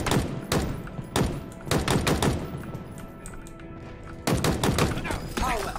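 Halo Infinite gunfire comes in rapid automatic bursts separated by short pauses, with dense, loud, close shots and occasional thuds.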